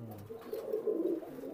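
A Pakistani high flyer pigeon at a bloodline pigeon farm gives a single soft, low coo, heard close and alone.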